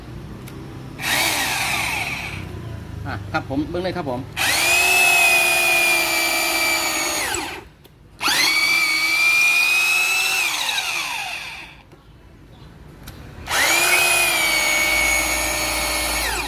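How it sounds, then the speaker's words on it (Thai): A rotary hammer drill whines loudly in three long bursts, pitch sagging as the bit bites in, with brief pauses between; someone speaks briefly between runs. "เดี๋ยวผมเจาะใหม่ให้เบิ่งเลยครับผม"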